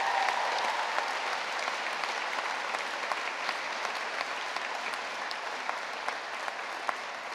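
A large audience applauds graduating mature students at a school of media, performing arts, art and design ceremony, the clapping steady and full throughout with faint crowd murmur beneath.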